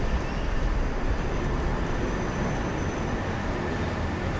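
Metro train in Chongqing, China, a steady broadband rumble of rolling wheels and car noise held loud and continuous throughout, with no voices.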